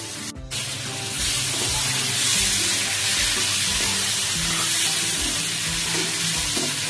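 Whole lote (Bombay duck) fish frying in hot oil for a tel jhal, a loud steady sizzle with dense hiss rising after a brief sharp onset and holding strong throughout, no voices.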